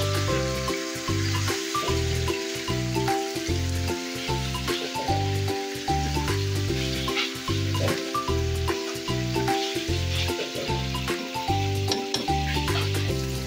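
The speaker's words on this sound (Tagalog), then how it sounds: "Isama po natin sa paggisa para mawala po ang lansa ng ating isda." Pink salmon head sautéing with tomatoes in a pan gives a steady, close sizzle and hiss with occasional stirring scrapes, continuing without talk and with a faint rhythmic background thumping throughout.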